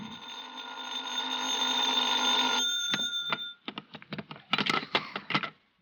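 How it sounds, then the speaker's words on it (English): Telephone bell ringing as a radio drama sound effect, a steady electric ring for about two and a half seconds, then the handset rattles and clicks as it is picked up, close and clear. "I was still in bed when the phone rang."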